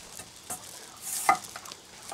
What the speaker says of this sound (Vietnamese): mình sẽ trộn vào cái vôi này